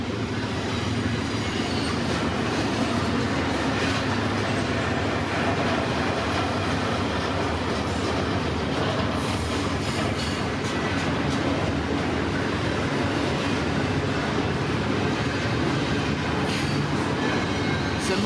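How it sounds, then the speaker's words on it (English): CPKC 119 freight train with a single locomotive rolls steadily past nearby on a smoky day, a continuous loud rumble with wheel clatter and faint squeal throughout, no talking. "Symbol on this train is CPKC 119, which originates in the St. Luc Yard in Montreal, Quebec, and terminates in Edmonton, Alberta."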